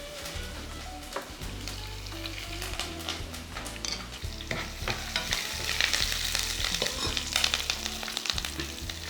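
Cumin, a dry chilli and curry leaves sizzling in hot oil for sabudana khichdi, a close crackling fry with scraping stirs and clinks of a spoon against the pan.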